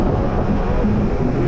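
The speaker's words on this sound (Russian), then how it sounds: "Ветер." Wind buffeting a microphone on an electric bike ride along the coast near Yalta in April, a steady low roaring rumble filling the short stretch without a break.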